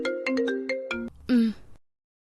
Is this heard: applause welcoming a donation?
no